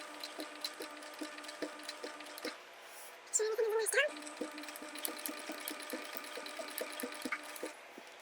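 A sewing machine top-stitching a cotton and waxed canvas bag, running in steady rhythmic bursts with a short mechanical whirring pause partway through.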